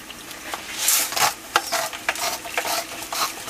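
Spoon stirring homemade tomato sauce made from fresh tomatoes in a pan, with soft scraping swishes and light sizzling spread across a few seconds, close and fairly quiet.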